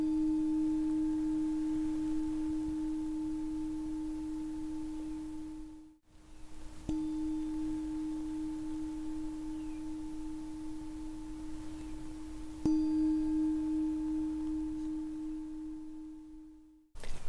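Tibetan singing bowl being played, a sustained pure ringing tone with steady overtones that fades briefly and is struck again, soft and close, with no voices.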